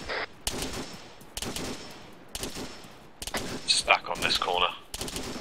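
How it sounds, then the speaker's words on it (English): Rifle fire into buildings in a military video game: bursts of gunshots come in several distinct volleys, loud and close, with a radio voice speaking between them. "Delta, deliberate fire into the buildings, into the walls."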